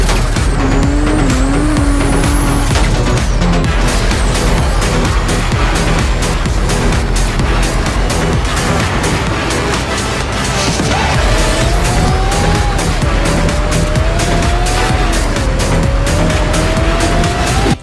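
Modded car engines race and tires squeal in GTA San Andreas, a continuous loud roar of revving motors with rising and falling pitch sweeps and repeated skidding screeches throughout, no talk.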